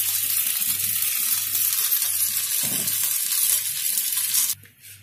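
Tempering sizzling in a pan while making chawal ke fare, a steady, loud frying hiss close by with faint stirring scrapes beneath it, ending abruptly as the sizzle cuts off near the end.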